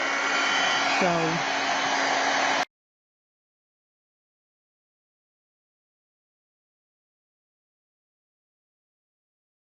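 Heat tool blowing hot air onto a tissue paper card, a loud steady whooshing hiss for about two and a half seconds, a brief spoken word over it, then an abrupt cut to silence.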